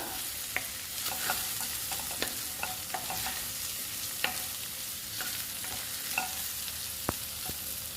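An egg and rice mixture is stirred in a hot pan, a quiet continuous sizzle punctuated by frequent light spatula scrapes and clicks throughout, with no speech.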